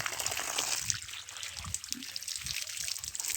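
Water from a walk-in shower runs and trickles steadily at close range, a soft continuous splashing with faint low thumps underneath.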